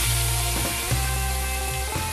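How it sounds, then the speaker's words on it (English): Malaysian spice paste (rempah) frying in a pan and being stirred, a steady, loud, close sizzle with a few soft scraping stirs, no voices. "I'm stirring these spices"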